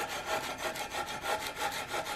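Strokes of 120 grit sandpaper backed by a file across a wooden muzzleloader gun stock, a close, soft rhythmic rasping of about seven back-and-forth passes.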